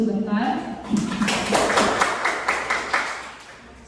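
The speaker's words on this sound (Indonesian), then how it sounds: "Berikan aplaus dulu sebentar." A classroom audience breaks into applause after group presentations, a loose burst of many hands clapping that swells for a couple of seconds and then fades, with voices murmuring around it.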